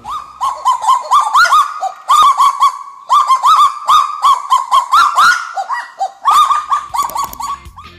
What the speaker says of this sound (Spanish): Algo curioso es su canto, ya que se parece a los ladridos de un perro.